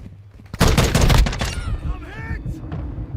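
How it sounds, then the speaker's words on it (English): Mortar strike and gunfire in the video game Call of Duty Modern Warfare II: a heavy burst of rapid shots and blasts after a quiet start, then fading rumble with a brief radio-like voice. "Hostile mortar strike near your position."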